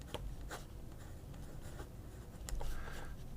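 A Kuru Toga mechanical pencil writes on paper, with soft close scratching strokes and light taps in an uneven rhythm.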